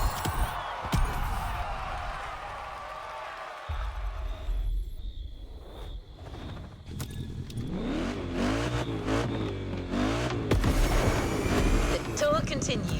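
Mercedes-AMG One hypercar in The Crew Motorfest, its engine note rising and shifting in harmonic sweeps through the second half, with a steady low rumble and a brief quieter stretch early on.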